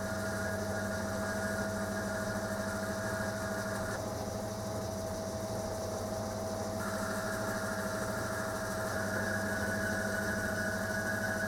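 A metal shaper machine cuts with a carbide tool in uninterrupted passes, giving a steady droning mechanical hum with a constant whine that lasts throughout, close and without speech.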